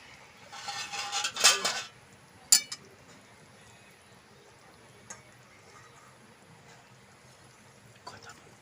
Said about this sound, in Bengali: মাছগুলো আমি এখন দিয়ে দিচ্ছি।